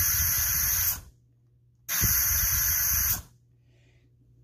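SMC single-stage vacuum nozzle cups gripping a cardboard box make two loud bursts of hissing air of about a second each, separated by a short near-silent gap.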